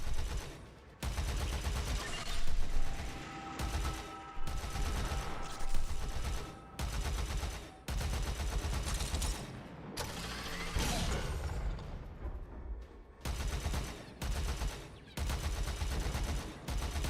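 An arc gun fires in the video game Warframe, with bursts of crackling, rattling fire cut off by short gaps, loud and close throughout, some bursts trailing into a sizzling tail.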